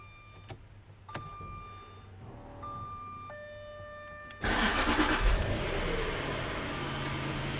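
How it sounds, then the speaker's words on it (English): A Jaguar S-Type engine is started: a few dash chimes and clicks come first, then the starter cranks and the engine catches into a steady close idle. "I now have to start the car."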